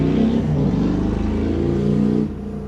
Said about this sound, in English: That car is really annoying.